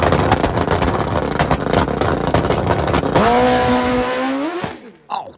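A 600 hp nitrous drag bike on a cold track roars and spins its rear tire, a loud rough blast that winds up into a rising scream before cutting off abruptly, followed by a brief distant thump.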